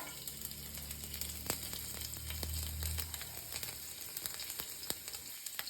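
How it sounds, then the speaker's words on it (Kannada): Finely chopped garlic fries in hot oil in a pan, giving a steady, close sizzle with scattered small pops and crackles throughout and no voices. "ಇವಾಗ ಎಣ್ಣೆ ಕಾದಾದ ನಂತರ ಈ ಬೆಳ್ಳುಳ್ಳಿನ ಚಿಕ್ಕದಾಗಿ ಚಾಪ್ ಮಾಡಿ ಇಟ್ಕೊಂಡಿದ್ವಲ್ಲ ಅದನ್ನು ಹಾಕ್ತಾ ಇದ್ದೀನಿ"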